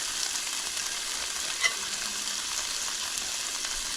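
Onion sizzles steadily in a hot pan, a continuous even hiss with one faint clink partway through and no voices.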